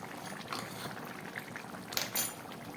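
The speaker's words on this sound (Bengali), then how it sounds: "তরকারিটা ফুটে উঠেছে খুব ভালোভাবে।" Shrimp drop into a bubbling curry simmering in a pot, a soft wet splash and bubbling bursts near the end over a low steady boil, no voices.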